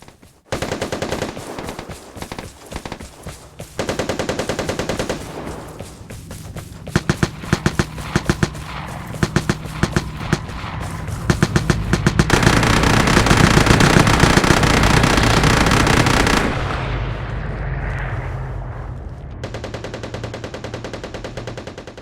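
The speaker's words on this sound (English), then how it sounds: "The guy was prone as he was firing just now." AKM rifle fire from a prone shooter in the video game Vigor: repeated loud rapid bursts, then a dense continuous roar of shots before easing into quieter distant firing.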